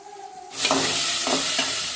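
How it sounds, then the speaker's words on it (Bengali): Rohu fish heads frying in a pan, a loud sizzle bursting in after a quieter half-second and holding steady, with a few stirring scrapes on top. "এই যে মাছের মাথাগুলো ভেজে নিচ্ছি"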